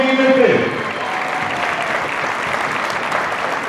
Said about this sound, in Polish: Brawa mają być takie głośne, żeby pan Wiesiu nie dał rady nic mówić przez pół minuty